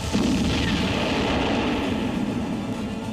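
A missile explosion sound effect for a strike on a US and British military base on an island in the Indian Ocean: a loud, sustained rumbling roar that stays heavy throughout, with no speech.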